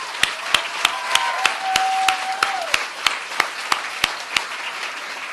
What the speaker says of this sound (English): So I'll take a round of applause to all of them again.